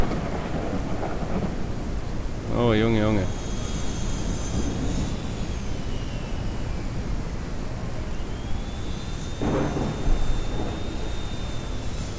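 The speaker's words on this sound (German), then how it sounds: "Aber wenn man schaut, wie es hier schüttet." Heavy rain pours steadily in the farming game Ranch Simulator, with rolling thunder rumbling beneath the downpour. A voice exclaims briefly partway through.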